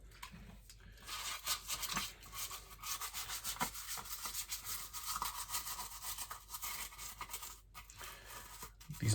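Brisk scrubbing of a 3M respirator mask face seal with a bottle brush, rapid close bristle rubbing strokes in an uneven rhythm, with no voices.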